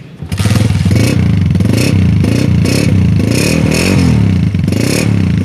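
A red Honda 125 motorcycle, a 1999 model, starts up and runs loudly nearby, its single-cylinder engine chugging with rhythmic revs that rise and fall over a steady idle.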